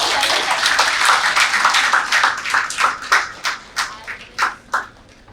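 An audience at a classroom event honouring a civil-services exam topper claps, starting as a dense ripple that thins into scattered, separate hand claps before fading out.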